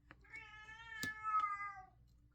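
A cat meows twice, a long drawn-out harmonic cry with a short sharp accent midway, close and clear over a quiet background.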